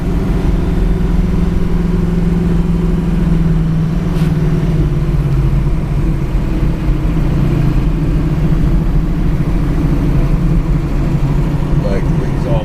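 A Chevy Nova's engine rumbles loud and close while driving on an autumn car show run, a steady low growl with slight rises in revs and constant road and wind roar throughout.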